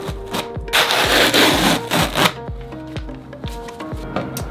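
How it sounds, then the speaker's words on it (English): Sanding over fiberglass and epoxy on a wooden rocket, delivered as rhythmic scraping strokes, some long and gritty, others shorter, with faint knocks between them and no talk. "So it's okay if I sand into the glass a little bit."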